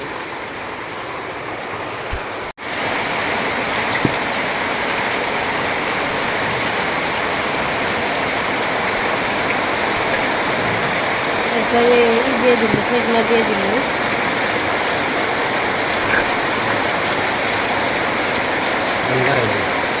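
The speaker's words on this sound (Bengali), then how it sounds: "এত বৃষ্টি নামছে বাবা রে, বৃষ্টি তুলনা ছাড়া বৃষ্টি নামছে" Heavy rain pours down steadily around a home, a dense, continuous hiss that stays loud throughout, while a person speaks briefly over it early on.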